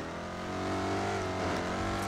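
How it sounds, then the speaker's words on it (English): Sports car in the Lego City Undercover video game, a close, loud engine note holding a steady drone and swelling slightly as it drives, with no talk over it. "With our new fancy ass sports car."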